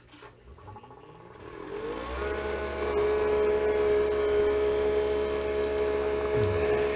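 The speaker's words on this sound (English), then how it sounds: "So we're going to go ahead and run vacuum." A freeze dryer's vacuum pump starting up, a low steady hum and whir that builds over the first two seconds and then drones on evenly and fairly loud with no talk.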